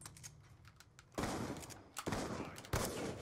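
Three sharp gunshots from a first-person shooter video game during a trickshot match, each a loud sudden burst with a short decaying tail, following a stretch of faint clicking at the start.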